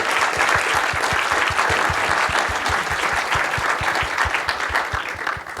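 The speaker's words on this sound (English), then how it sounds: "thank you to the audience for spontaneous applause" An audience applauds after a corporate sustainability keynote panel, with dense, steady clapping from a roomful of people throughout that fades slightly at the end.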